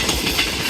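A train rushes by at speed on a Pakistani railway line near Raiwind, a steady loud rumble with clattering wheel noise and no voices over it.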